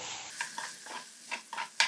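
Ivy gourd with turmeric and salt being stirred in a frying pan, with soft, uneven scraping strokes over a light sizzle, close and faint.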